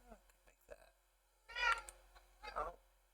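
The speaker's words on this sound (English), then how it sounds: "there's my cat." A house cat meows twice in quick succession, close and fairly clear, after a few soft background sounds in a quiet room.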